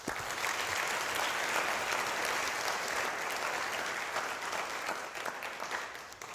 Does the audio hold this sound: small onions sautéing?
no